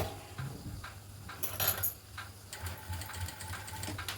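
A sewing machine stitches piping onto a blouse neckline in short, quiet bursts of rapid mechanical ticking, separated by brief pauses, heard close and alone.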